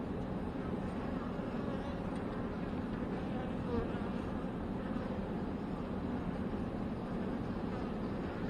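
A large honey bee colony flies at its hive in cool weather, foragers bringing in pollen, making a dense, continuous buzzing hum that stays steady and close throughout.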